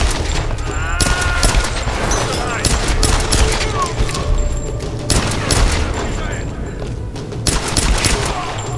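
Dense gunfire bursts and booms from Tomb Raider (2013) combat, loud and continuous with rapid volleys throughout, with occasional shouted voices mixed in.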